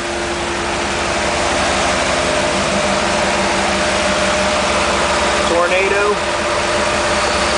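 A 1994 Pontiac Trans Am GT convertible idles right after a major engine overhaul, with a steady, close, continuous rumble throughout and a brief faint voice near the end.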